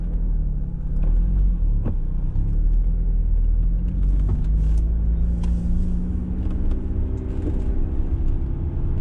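A 1G Eagle Talon TSI AWD with 19k original miles warming up: a steady, loud low engine drone with a rumbling tone holding throughout, and faint clicks on top.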